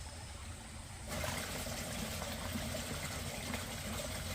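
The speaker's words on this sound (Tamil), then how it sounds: "இந்த சைட் பாருங்கள் அதே தண்ணி அருவி மாதிரி போகுதுங்க" Water rushing over a farm like a small waterfall after rain, a steady broadband wash that starts softly and swells louder after about a second, then holds as continuous close flow with no talking.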